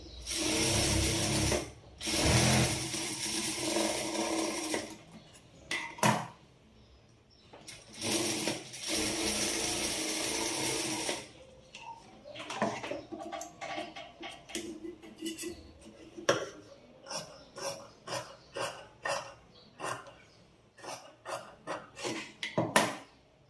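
Sewing machine stitching a cross-cut boutique-style blouse, running in long steady whirring bursts early on, then short stop-start clatters with pauses, close and fairly loud.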